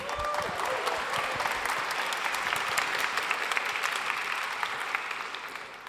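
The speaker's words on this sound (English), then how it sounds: "let's give a round of applause for Eric" Audience applause at a web performance conference talk, a dense, steady wash of many hands clapping throughout, fading slightly toward the end, with no talk over it.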